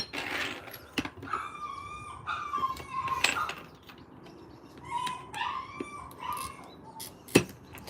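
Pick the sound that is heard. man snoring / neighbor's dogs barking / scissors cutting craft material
neighbor's dogs barking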